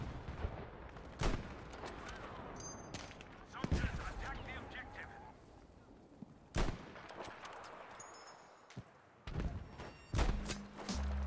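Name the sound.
gunfire while sniping in video game Battlefield 5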